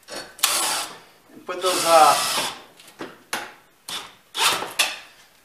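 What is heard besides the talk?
screws being put back into garage door track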